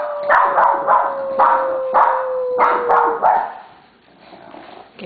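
A small dog named Pee-wee barking in a rapid run of sharp, close barks over a steady whining tone, then trailing off into softer whimpers.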